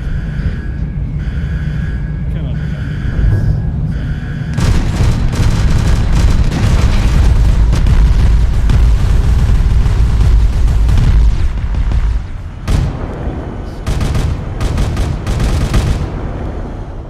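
Gunfire and explosions from Chaos guns rage in a Warhammer 40,000 space video game: a loud, dense, continuous barrage of shots and booms that drops out briefly near the end, then returns in short bursts.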